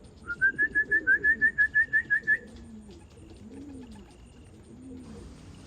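A rapid series of about a dozen high chirping calls, then soft pigeon coos in the background, close by outdoors as racing pigeons arrive at their loft after a race.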